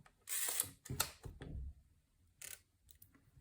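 Close mechanical whirring and clicking comes in short bursts from a Contaflex camera's gear-driven self-timer, buzzing, pausing, then ticking again.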